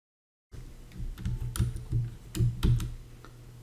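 Close keystrokes on a computer keyboard, a quick irregular run of clicks and taps with a few heavier key presses, starting after a brief silence and with no talking.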